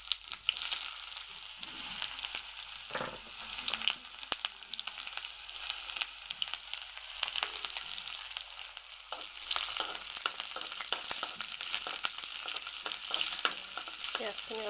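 Onions fry in hot oil in a home kitchen, a steady close sizzle with intermittent stirring scrapes and crackles running throughout, no talking.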